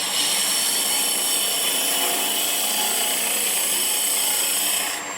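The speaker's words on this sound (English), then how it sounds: "I'm actually riding the bevel of the cutter" Hunter woodturning cutter riding its bevel on spinning wood on a lathe, a continuous loud rasping, hissing cut that holds steady for several seconds before easing at the end, with no talking.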